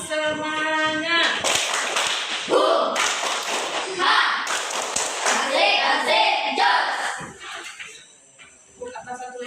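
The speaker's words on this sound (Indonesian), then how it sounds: "Tepuk semangat." A school class performs the rhythmic "tepuk semangat" clapping chant, with rapid claps and taps mixed with children's chanting voices, loud and close, fading near the end.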